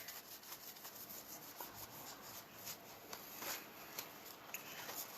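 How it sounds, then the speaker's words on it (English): A tarot card deck being shuffled gives soft, close papery rubbing and riffling, with repeated brief flutters and light taps over a quiet background and no talking. "just gonna shuffle the deck and ask Spirit for guidance."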